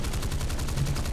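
Twin guns of an American attack plane fire in War Thunder, a rapid, steady stream of close, punchy shots that continues without pause for the whole moment.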